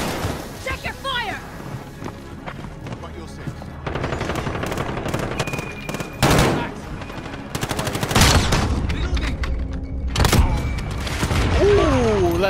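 Rifle and automatic gunfire from a Road to Damascus video game match with a Kar98k, loud sharp cracks and rattling bursts scattered across the stretch between quieter moments, with players talking faintly underneath.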